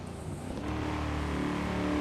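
A 2016 Ford Shelby GT350R accelerates in a roll from about 40 mph, its engine note climbing steadily and heard from inside the cabin at fairly low level, with no talking.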